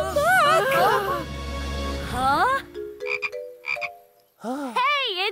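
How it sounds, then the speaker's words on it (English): A small cartoon frog croaks in a few short, bright bursts, loud and close, with animated children's voices talking and reacting around it. "Hey, it's just a little frog!"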